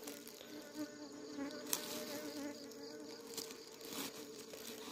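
Bees buzz steadily and faintly around a hive during a honey harvest in an oil palm plantation, a continuous swarming hum with no speech.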